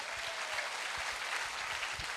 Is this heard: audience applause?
yes